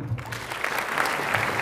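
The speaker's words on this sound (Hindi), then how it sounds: "इनके लिए तालियां।" An audience claps at a SPIC MACAY Indian classical music and culture event, a short burst of dense applause that rises quickly, with a voice briefly heard at the start.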